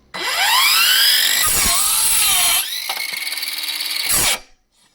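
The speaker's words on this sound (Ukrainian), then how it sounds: "А тепер спробуємо притиснути і подивитися, як вона швидко вріже." A Ronix cordless circular saw cuts wood, spinning up to a loud high whine, bogging down as the blade bites, then running on with a buzzing cut before spinning down and stopping.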